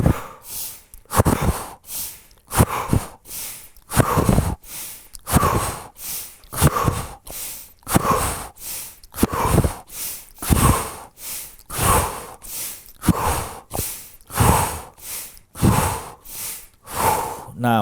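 Repeated sharp breaths drawn in through the nose and mouth during a guided breathing exercise, steady rhythmic cycles about one per second, close and loud with no talk.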